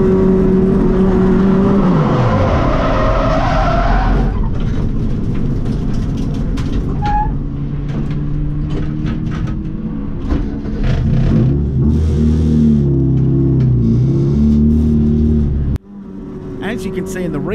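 Excel Cup race car spinning out at turn one on a circuit, a loud engine note rising then dropping as the rear lets go, rumbling tyre and drivetrain noise through the spin before an abrupt cut near the end.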